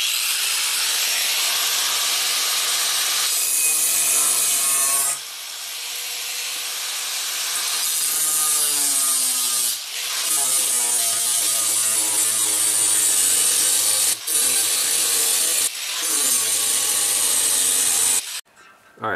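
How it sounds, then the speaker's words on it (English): An angle grinder cuts through a stainless steel piece on a '96 Mercury Mystique, a loud sustained whine that shifts pitch as it bites and eases, with brief interruptions before stopping near the end. "So we're just going to use a grinder and cut this thing off"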